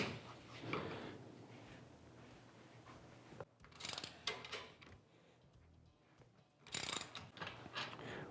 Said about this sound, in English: we're going to remove both A-pillar bolts. So we've got our 15mm socket